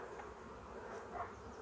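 Honeybees hum steadily at the front of a hive as a honey super is fitted, a continuous close buzz with a slight swell near the end and no talk over it.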